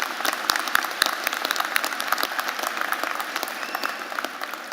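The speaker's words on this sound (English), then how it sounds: "Let's give one more round of applause to the keynote speaker, Alyssa Alma." Graduation ceremony audience at a commencement applauding the keynote speaker, a sustained wash of many hands clapping from a large crowd, steady and moderately distant throughout.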